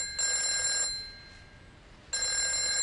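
A telephone rings in two bursts of shrill electronic trilling separated by a quiet pause, fairly soft and clear, with no one speaking.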